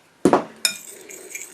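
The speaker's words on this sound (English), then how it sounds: "we're going to mix that up with a fork" A fork clinks against the bowl while stirring milk into muffin mix batter: two distinct metallic taps close by, followed by a faint ringing tail and soft scraping.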